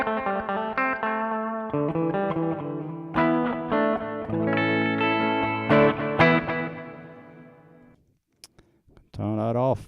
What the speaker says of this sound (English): And the delay part has a drift button. It's emulating a tape echo basically